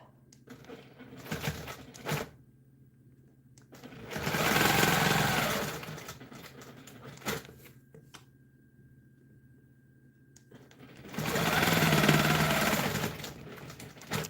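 Sewing machine quilting along a seam of a custom quilt, running in two sustained bursts of rapid stitching separated by quieter pauses with short clicks and handling, close and fairly loud.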